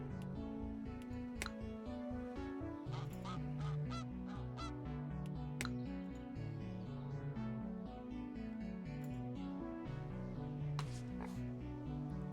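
White geese honk repeatedly in the zoo-building video game Let's Build a Zoo, a busy stream of nasal calls over a steady looping game music bed with sharp clicks.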